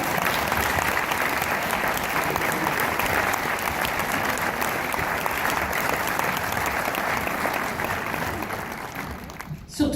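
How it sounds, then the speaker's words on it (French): A cinema audience at a film premiere in Orléans breaks into sustained, loud applause that holds steady for several seconds before cutting off abruptly near the end. "donc je pense qu'on peut les applaudir encore"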